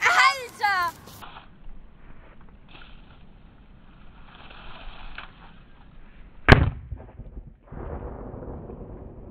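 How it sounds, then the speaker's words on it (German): A dry ice bottle bursts outdoors with a single sudden, loud bang after a quiet stretch, followed by a brief hiss; people talk before and after it. "Hier mussten wir wieder mit einem Stein nachhelfen, dass die Flasche explodiert"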